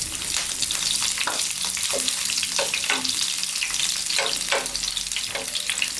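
Curry leaves and green chillies fry in hot coconut oil with a steady, dense sizzle and crackle throughout, broken by brief spitting pops, close and loud with no voices.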